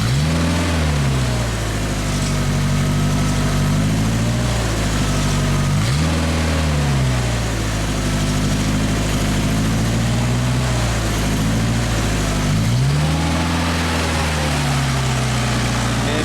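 The engine on a Genie machine idles low and steady, its deep throb wavering and dipping briefly every few seconds, heard up close with no talk.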